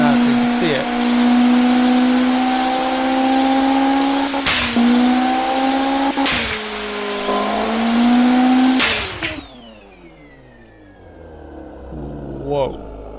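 A 3,700-horsepower car engine held at a loud, steady high-rpm roar on a dyno, with sharp bursts punctuating it before the revs drop away and wind down. Someone talks over the engine noise.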